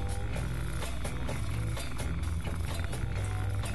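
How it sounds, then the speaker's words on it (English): Motorcycle engine climbing a hill on a muddy track after rain, heard through a microphone on the front fairing, so the steady droning roar sounds dull and muffled, continuous and close with no talk. "You'll notice the engine sounds a little bit odd because the microphone is mounted to the front fairing, so it muffled the sound of the engine a lot."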